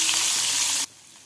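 Dried fish sizzles loudly in coconut oil in a frying pan, a dense hiss that cuts off abruptly after under a second.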